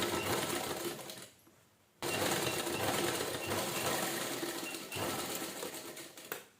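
Sewing machine stitching lace onto a hand purse, a loud rapid continuous whirring stitch that runs in bursts with a short pause after the first stretch and a brief break later.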